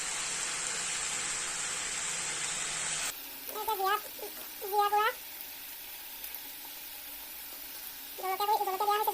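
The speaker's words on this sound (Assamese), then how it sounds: "ইয়াত ধুনীয়াকৈ তেল চেল দি ভাজি আছোঁ।" Oil sizzles loudly and steadily in a pan as something fries, a dense hiss that cuts off abruptly after about three seconds, followed by a few short, high, meow-like calls.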